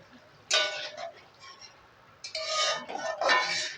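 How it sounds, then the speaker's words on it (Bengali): Metal spatula scraping and clinking in a pan while spice paste (masala) is fried for mutton curry, a few close stirring bursts with short gaps between them. "মশলাটা ভালো করে কষিয়ে নিয়েছি, আর খাসির মাংসটা দিয়ে দেব"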